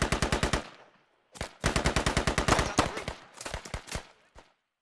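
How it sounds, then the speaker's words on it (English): Machine gun fire in the military shooter game Squad: several loud rapid bursts of automatic shots separated by short pauses, close and dominant with no talking. "Yeah, Silverman's shooting at him"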